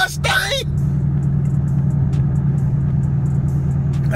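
A Ford Mustang's engine idles with a steady, loud low rumble close by, after a brief burst of voice at the start; no clear rising rev is evident.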